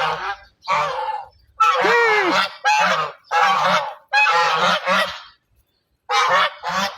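A flock of domestic geese kept by a neighbour honks loudly and nearby in repeated overlapping bursts separated by short pauses, harsh nasal calls coming in groups, with no people talking.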